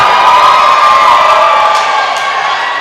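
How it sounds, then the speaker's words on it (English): Roller derby crowd cheering at a track as skaters are introduced, a loud dense roar of shouts and whoops that holds steady and then eases slightly. "Block Matrix and Draft Punk, give them a big cheer and let them know you want it."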